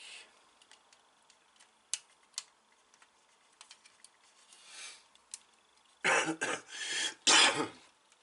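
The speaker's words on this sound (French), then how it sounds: "je tousse un peu" After quiet ticking and faint clicks, a person coughs a few times close up, harsh and abrupt bursts near the end.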